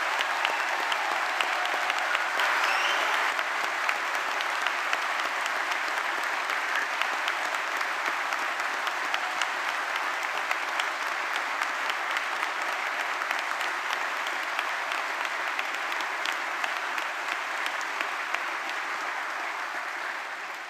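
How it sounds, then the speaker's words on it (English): A large crowd at a summer university graduation ceremony in Exeter applauds the new graduates, a sustained, even roar of clapping that fills the hall for about twenty seconds before easing off at the end. "could you join me in giving a big round of applause to all of our new Exeter graduates"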